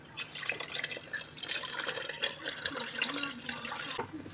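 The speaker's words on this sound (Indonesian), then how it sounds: "yang terakhir kita tuangkan santannya" Coconut milk poured into a blueberry ice cream mixture, a steady close liquid pour and trickle lasting several seconds with no talking.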